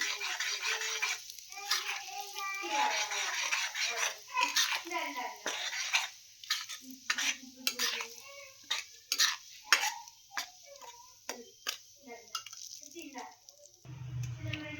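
Gooseberry pickle ingredients with salt are mixed in a pot by hand, giving soft scraping and clinking stirs near the mic while a child chatters throughout.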